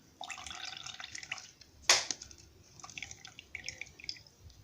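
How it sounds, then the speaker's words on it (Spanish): Water drips and trickles out of soap powder slime as it is squeezed and drained by hand, wet squelchy splatters with one loud splash partway through, close and otherwise fairly quiet. "vamos a agarrar esto y le vamos a quitar el agua."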